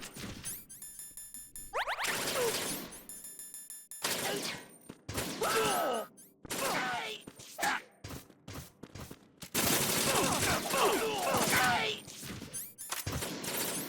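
Gunfire in the stealth action game Metal Gear Solid 2, dense bursts of automatic shots and impacts in repeated loud stretches with short gaps, layered with game effects and some speech.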